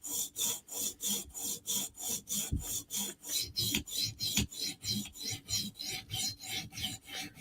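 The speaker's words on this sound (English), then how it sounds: "So now we're just going to sharpen the edge." A titanium knife edge is stroked over a sharpening stone while being sharpened in M4 steel to a mirror finish, giving a steady rhythmic rasping, roughly two close, fairly loud strokes per second, with no talk.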